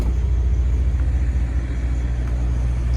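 A 1972 Chevrolet Nova with a 2005 Tahoe 5.3-liter V8 and LS2 intake idles steadily: a loud, close, low rumble that holds an even pulse without revving, with no talk.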